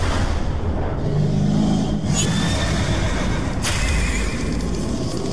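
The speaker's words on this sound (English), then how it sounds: "Galloping horses." Horses galloping and neighing in the video game BioShock Infinite, a loud continuous rumble of hooves with whinnies rising over a dense game soundscape.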